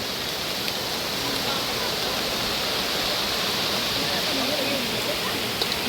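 Steady broadband hiss of rain falling beside a river by the sea, a dense, even wash of drops and flowing water with no clear breaks, fairly close and constant throughout.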